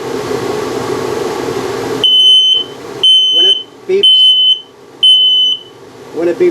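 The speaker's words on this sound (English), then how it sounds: "That LP test, carbon monoxide test coming up." An RV's LP and carbon monoxide detector sounds its test alarm in a 2023 Starcraft Autumn Ridge 26BH, giving four loud, piercing beeps in an uneven rhythm after a stretch of background noise, with a voice talking briefly between beeps.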